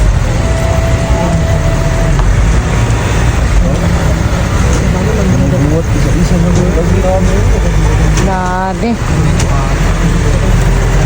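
Cars and cement trucks idle and creep in a long traffic jam at Diadi. Heavy engine rumble fills the scene, a wavering tonal sound rises near the end, and people talk over it.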